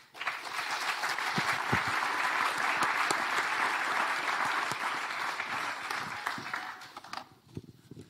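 A gala audience claps warmly, a dense, fairly distant wave of applause that holds steady for several seconds before thinning out into a few scattered claps at the end.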